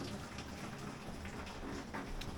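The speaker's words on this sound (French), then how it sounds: "Et bah il pleut" Steady rain falls outside a mountain shelter in the Pyrenees on the GR10 trail, making a faint, even hiss with no clear drops or talk.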